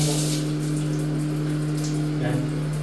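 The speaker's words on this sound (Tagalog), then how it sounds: "Center lang sir for overhead shower" Overhead shower running in the bathroom of a one-bedroom condo unit at Satori Residences, a steady broad water hiss with a constant mechanical hum beneath it, close and continuous throughout.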